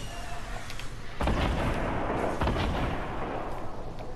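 Grenade launcher blasts in the video game Fortnite, two heavy booming explosions about a second apart over a steady rumbling background, loud and close.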